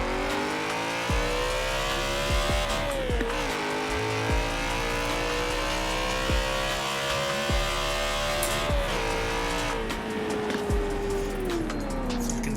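A BMW E92 M3 in Forza Horizon 4 revs hard in second gear, its engine note climbing steadily and loudly toward the limiter, with brief dips at shifts and a sustained high wail; no talking.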